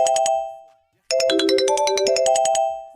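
An original Sony mobile phone ringtone plays as a bright, electronic melodic chime: a short opening phrase, a brief silence, then a longer rhythmic run of tones, loud and clear.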